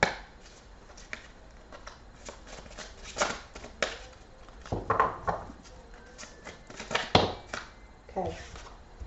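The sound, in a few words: tarot cards being put back and shuffled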